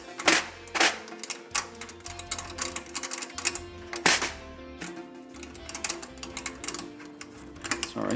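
A Ludwig P-86 snare strainer on an Acrolite drum is cranked tighter, giving a series of sharp mechanical clicks and ratcheting ticks in irregular bursts, close and fairly loud, with no talking.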